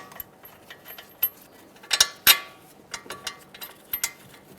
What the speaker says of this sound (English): start on the mounting bolts and snug them up.